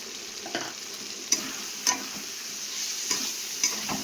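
Spice paste with turmeric and a little sugar sizzles in a pan, a steady close frying hiss broken by a few sharp spatula taps and scrapes, with no voices.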